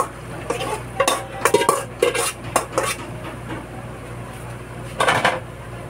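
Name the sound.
mung beans being added to a cooking pot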